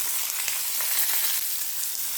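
A dense, close sizzle of chopped onions frying in hot oil for channa masala, steady crackling hiss with no voices.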